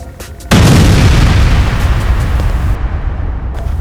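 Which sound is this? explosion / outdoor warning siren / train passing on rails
explosion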